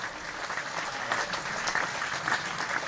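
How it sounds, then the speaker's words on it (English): Cricket crowd at a County Championship match between Yorkshire and Surrey applauds a cleanly driven boundary for four, steady clapping spread across the ground at moderate distance, sustained for the whole stretch with no voices over it. "Well, the applause will tell you how good a stroke that was."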